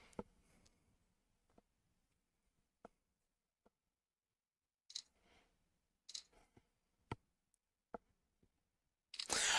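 A phone camera snaps selfies during a casual live chat stream: a handful of sharp, isolated shutter clicks spaced out over a quiet background, with a louder rustle at the end.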